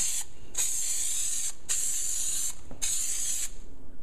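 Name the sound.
aerosol spray can spraying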